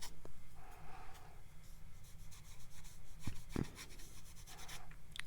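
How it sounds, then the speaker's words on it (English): Brush scraping watercolor paint across paper to build a grainy sand texture for a coastal scene, a steady close rasping rub with a few sharper scratchy strokes, no voices. "You can even hear it kind of scraping."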